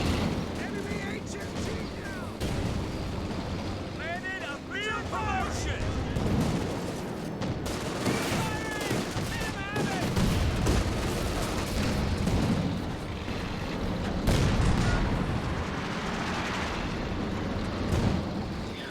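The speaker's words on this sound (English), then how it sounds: "There's a major artillery that was called in there, tried to dislodge the machine gun" Battle sounds from Company of Heroes 2: a dense, continuous barrage of artillery booms and rattling machine gun fire, loud and layered, with someone talking over the chaotic combat throughout.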